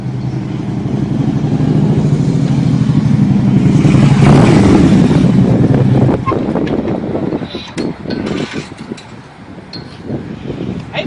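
Motorcycle with aftermarket exhaust pipes revving, a loud sustained engine roar that swells and then drops away, leaving rougher, uneven engine and road noise with wind buffeting the microphone.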